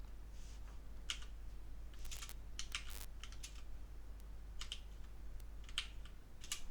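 A computer keyboard is tapped in short, irregular clusters of sharp keystrokes with pauses between them, quiet and close over a steady low electrical hum.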